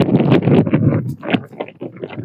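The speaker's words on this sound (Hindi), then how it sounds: "बाकी ठंडी ठंडी हवा चल रही है, बर्फीली हवाएं" Cold, icy mountain wind gusting near Mana Village in the high Himalayas, a loud, rough rumble of microphone buffeting that surges and dips in uneven bursts with no voices.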